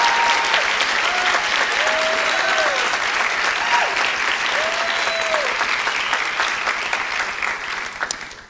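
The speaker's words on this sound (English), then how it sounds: "A round of applause for Kendrell Maston." An audience at a formal awards ceremony gives sustained, dense applause, loud and even for several seconds before tapering slightly, with faint tones and murmurs underneath.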